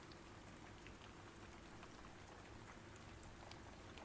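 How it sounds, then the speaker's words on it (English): Very faint rain patters softly and steadily in the background, a low even wash of drops with no other sounds over it. "can you hear the rain sound in the background okay?"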